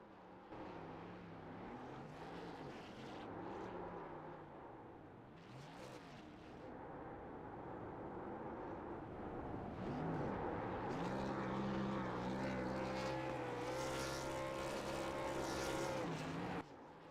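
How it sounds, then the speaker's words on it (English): An engine roars through a burnout in a sim racing game at Las Vegas Motor Speedway, revving up and down in long, wavering pitch sweeps that climb into a sustained, loud high-revving scream toward the end. "Let me see a good old burnout, man."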